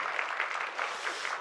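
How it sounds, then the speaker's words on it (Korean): A church congregation claps together during a Sunday morning worship service, a brief, even patter of many hands heard from a moderate distance with no talking. "우리 하나님께 영광의 박수 올리겠습니다"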